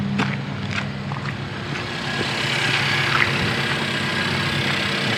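A Renault Korea SM6 1.6 TCe gasoline engine idles in a parking garage, a quiet, even hum that stays steady and close with no talking.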